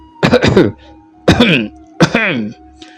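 Three short, throaty coughs spaced about a second apart, close and loud, sounding like a voice acting out small coughs.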